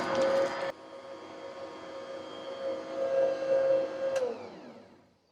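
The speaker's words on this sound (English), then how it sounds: "So this is 3/4 cups of room temperature butter going in the mixer with a cup of shortening." Electric stand mixer beating room-temperature butter with shortening, a loud steady motor whine that drops in pitch partway through and then winds down to quiet at the end.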